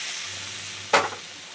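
Warm water poured into a pan of fried spices and potatoes for a rohu fish curry gives one sharp burst of sizzling hiss that fades quickly, with a faint low hum in the background.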